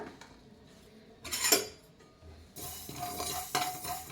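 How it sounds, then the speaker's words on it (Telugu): Two spoonfuls of mustard seeds are tempering lightly in a pan for a red chilli and tomato pickle. There is a quiet stretch, then a bright burst of popping, and after that a steady crackle and sizzle with sharp spikes. "చూడండి చిట్టుపట్లాడుతున్నాయి సరిపోద్ది అనమాట లైట్గానే వేయించుకోవాలి"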